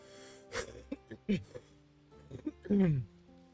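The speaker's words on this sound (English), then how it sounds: "sorry about the cough" A person coughs a couple of times at close range, short harsh bursts mixed with throat sounds against a quiet room.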